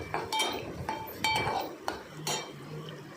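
A spoon scraping and clinking against a metal cooking pot while homemade red masala is mixed into a red potato curry, with a few bright metallic taps over a low kitchen background.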